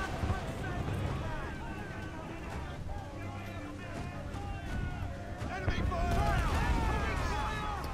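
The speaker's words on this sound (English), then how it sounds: "Firing cannons." Cannons fire from a sailing ship during naval combat in Assassin's Creed IV: Black Flag, with booming shots layered over dense, continuous game music and sea ambience for the whole stretch.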